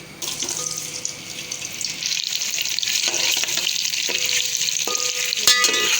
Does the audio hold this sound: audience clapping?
no